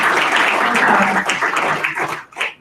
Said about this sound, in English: one more round of applause for the panel